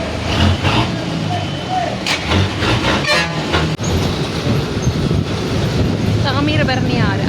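A train crosses a bridge over the Thamirabarani river in Tirunelveli, making a loud, continuous rumble and clatter of wheels on rails for the whole stretch, with brief tonal horn-like notes near the end.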